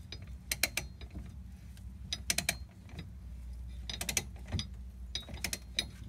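Torque wrench tightening a bolt on a Suzuki SX4 front end, clusters of quick ratcheting clicks in short bursts over a low hum, fairly faint and close, with no talk.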